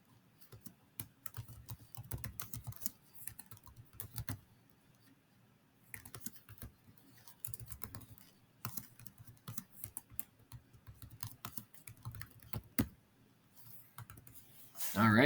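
Bursts of typing on a computer keyboard, rapid clicking keystrokes in clusters separated by short pauses, close and moderately loud, with no talking.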